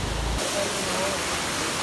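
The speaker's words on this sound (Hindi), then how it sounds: "ये लो जी पूरा व्यू, ये झरना आ रहा है ऊपर से" Waterfall pouring down from above near Rishikesh, a steady broadband rush of water that stays constant and fairly close throughout.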